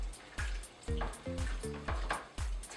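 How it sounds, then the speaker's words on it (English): A pot of gluten-free chili ingredients being stirred: repeated dull thumps and scraping strokes in a rough rhythm, with some tonal clinks of the utensil against the pot, close by and fairly quiet. "So once we've got all of our ingredients in here, we just start stirring it up."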